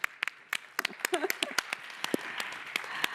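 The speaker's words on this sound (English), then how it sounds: "I think you can give applause for yourself" Scattered hand claps ring out in an uneven patter, sounding like a small group applauding briefly, with a few voices mixed in.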